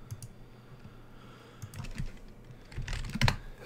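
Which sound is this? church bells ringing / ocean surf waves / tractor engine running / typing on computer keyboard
typing on computer keyboard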